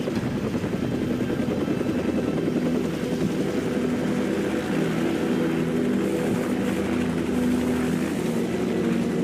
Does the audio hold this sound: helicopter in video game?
yes